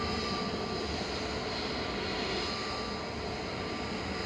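An Airbus A320neo jet on arrival at Manchester Airport, nearly new and finishing a seven-hour flight from Atlanta, gives a steady, fairly loud broadband engine roar that holds evenly throughout with no voices.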